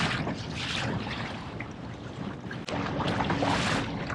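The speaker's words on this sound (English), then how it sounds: "you can tell that motor's just grabbing in there and pulling me" A Bixpy skeg motor drives a Sea Eagle RazorLite kayak at speed in a crosswind, a steady broad rushing wash of water and wind noise that stays loud and continuous from start to finish, with one brief dip partway through.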